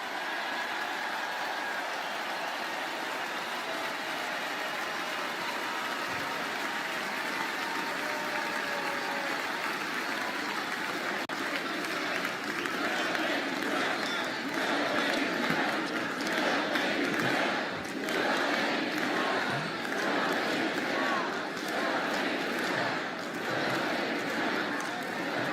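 Convention crowd at the Republican National Convention cheering and applauding, a dense sustained roar of clapping and shouting that holds steady and swells slightly louder partway through.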